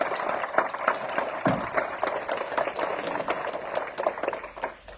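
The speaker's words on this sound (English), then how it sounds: "Let's give it a applause" Audience applause at an awards ceremony, dense clapping from many hands with a few distinct sharper claps standing out, steady and fairly close for the whole stretch.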